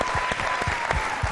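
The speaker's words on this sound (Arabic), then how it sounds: "يا حياة تصفيقة كبيرة" A big round of applause from a studio audience at a TV show, dense clapping with sharp, rhythmic bursts carrying steadily throughout, no voices on top.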